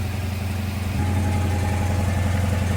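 A classic car engine idles steadily as it warms up at around 1,000 RPM, a close, loud, even low rumble with a smooth pulsing throb.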